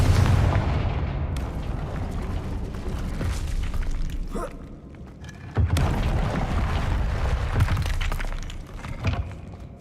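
Confringo blasting spell explosions in the Hogwarts Legacy video game: loud, rumbling booms with shattering debris, one burst at the start and another roughly halfway through, each trailing into a dense crackling roar.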